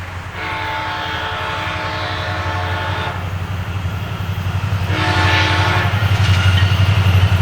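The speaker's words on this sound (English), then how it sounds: "Here came SunRail P314, highballing its way north towards its next station." A SunRail commuter train rumbles past close by in Poinciana, Florida, a steady heavy roar of wheels and engine that swells louder toward the end, with bursts of high hissing.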